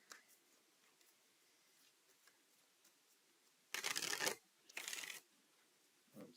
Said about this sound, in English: so you can shuffle your cards, those red cards